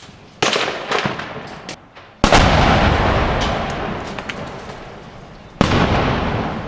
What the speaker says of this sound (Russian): Осколки от разрывов долетают и сюда. Это отчетливо слышно.